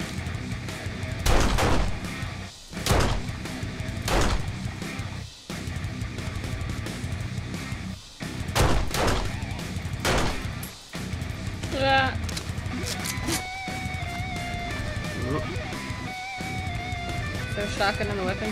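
Bursts of gunfire ring out in the zombie-survival game 7 Days to Die during a day-70 horde on a public server. The shots repeat loud and close in rapid volleys, and a person talks over them.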